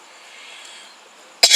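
After near silence, a single short, sharp cough bursts out loudly right at the end.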